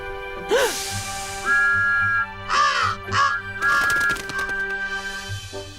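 Several harsh caws ring out in short bursts over a steady musical backing, close and fairly loud.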